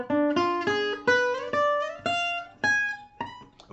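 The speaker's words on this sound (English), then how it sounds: "If I'm going to keep going up minor thirds, it's just going to keep repeating itself." A guitar picks a diminished arpeggio in stacked minor thirds, about ten distinct notes climbing in an even rhythm, each clearly attacked and briefly sustained, played alone and up close.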